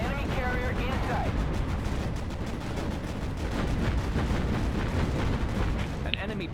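Anti-aircraft flak fire in the naval combat game Battle Stations Pacific: a dense, loud, continuous barrage of booming bursts and rattling gunfire that fills the whole stretch.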